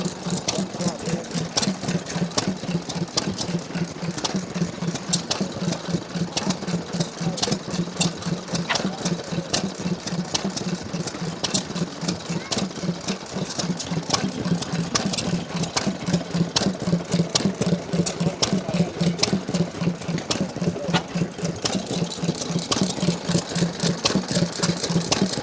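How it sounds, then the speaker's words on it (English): A small vintage Ronaldson Tippett Type D petrol engine, rated at six horsepower, runs steadily at an engine rally, giving a close, continuous rapid chugging with a mechanical clatter that keeps an even rhythm throughout. "the other engine I brought along, it's a little Ronaldson Tippett Type D"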